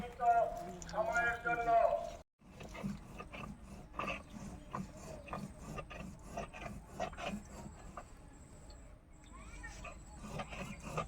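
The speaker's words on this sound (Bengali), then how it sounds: "আমি একটু জিরা বেটে সাহায্য করতেছি" Cumin seeds are ground on a stone in a home kitchen: quiet, rhythmic rasping strokes repeat steadily back and forth, with a brief voice near the start.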